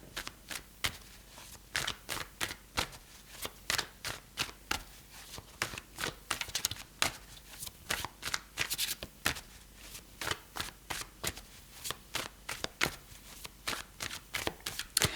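Tarot cards are shuffled continuously and close up, a rapid, uneven run of crisp riffling flicks and slaps lasting about fifteen seconds, with no voices.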